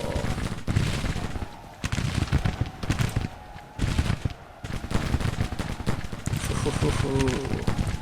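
Gunfire fills a war video game battle, with dense volleys of rifle shots and rattling bursts coming in loud waves, broken by brief lulls, while a voice talks over it.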